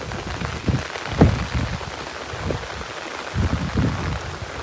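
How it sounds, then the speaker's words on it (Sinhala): Dense heavy rain pattering hard on surfaces in Weyangoda, a continuous close wash of drops with occasional louder splashes. "මාර වැස්සක්"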